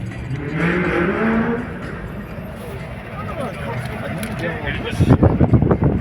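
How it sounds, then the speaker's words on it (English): A van's engine revs hard during a burnout in a car park, a loud droning roar that builds to rapid pulsing bursts near the end, with excited voices talking over it. "What, do a burnout?"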